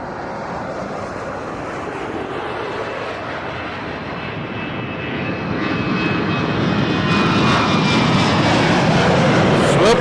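A WestJet jet airliner roars past at Toronto Pearson Airport, a loud continuous engine rumble that swells steadily louder over ten seconds, with no voices.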